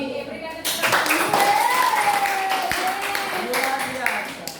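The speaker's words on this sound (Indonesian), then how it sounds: "Berikan tepuk tangan." An audience at a classroom presentation breaks into steady clapping that fills the room at close range, with a voice speaking over it and faint chatter underneath.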